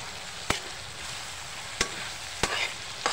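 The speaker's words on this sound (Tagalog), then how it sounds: "Haluin natin." Sisig of galunggong fish stirred in a hot pan: a steady close sizzle runs throughout, broken by four sharp spatula scrapes spaced about a second apart.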